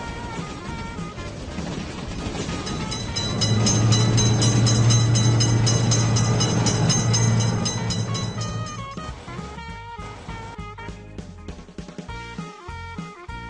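A game train rolls through a railroad crossing in Railroad Crossing by Studio WW Games: a low rumble rises to a sustained loud pass mid-clip, then drops away, leaving sparser clicks and game effects.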